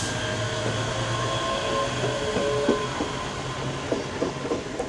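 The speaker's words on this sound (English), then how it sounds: "As 158741 behind me is also departing." A ScotRail Class 158 diesel multiple unit pulls away from Haymarket station, its engine droning steadily with rising tones, wheel clicks and faint squeals on the rails, heard from the platform without talk.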